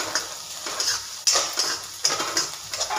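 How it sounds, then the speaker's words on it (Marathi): Chopped onion sautéing with curry leaves in a pan for Maharashtra-style kande pohe, with repeated metal clinks and scraping of a spoon stirring against the pan over a soft steady sizzle, close and without talk. "कांदा व्यवस्थित आपण परतून घेणार आहोत. गुलाबी होऊ द्यायचा, खूप करपवायचं नाही."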